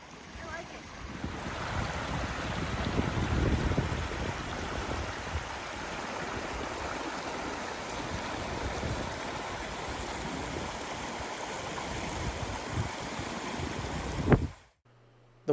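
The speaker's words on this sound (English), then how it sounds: "The water flowing into the lake from this stream was crystal clear" Continuous rushing water from a clear stream flowing steadily into a lake in North Cascades National Park, a broad even wash of sound with some wind, ending with a brief handling bump.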